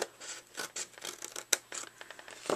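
Scissors snip through cardstock while a section is cut away for a tall gable box. The blades give repeated close, crisp, rasping cuts in short uneven strokes, loud and alone.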